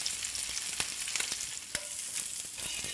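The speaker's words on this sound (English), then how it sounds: "I'm turning the heat right down because I don't want to burn my onion." Onion frying in an old family frying pan, a steady close crackling sizzle with scattered pops and stirring clicks, no voices.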